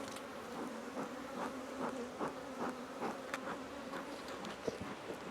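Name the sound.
agitated honeybees buzzing around opened hive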